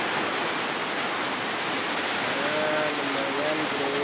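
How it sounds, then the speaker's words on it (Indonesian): Heavy rain falls in Sumatra as a dense, even hiss of water, with faint tonal sounds like a distant voice or bird appearing partway through. "Alhamdulillah hujan."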